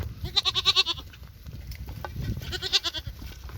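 Goats bleat in two clusters of quick, wavering calls, close by in a herd outdoors, with a pause between them.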